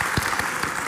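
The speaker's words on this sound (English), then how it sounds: "A round of applause." Theater audience applauding at an AIDS-themed stage event, a dense steady wash of clapping filling the whole moment at close range with no voices.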